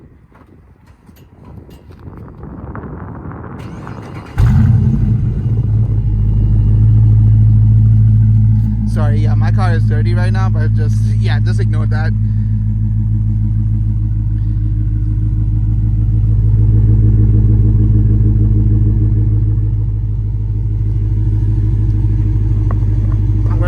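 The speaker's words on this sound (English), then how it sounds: "a quick warm start with the mid muffler delete" A Dodge Charger R/T with resonator and mid muffler delete cranks and fires on a warm start, then settles into a deep, loud, steady idle rumble with a slight swell, close up. A person speaks briefly over it.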